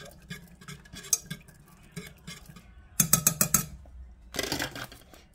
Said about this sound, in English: I'll stir that around a little bit.